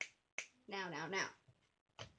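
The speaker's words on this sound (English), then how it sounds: "Sorry, I keep snapping my fingers at you guys." A few sharp, crisp finger snaps, close by, separated by a short voiced sound in the middle.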